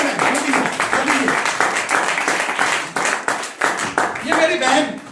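Audience applause at a live event in Hindi, dense continuous hand clapping from a crowd that dips briefly midway and then swells again, with voices audible underneath.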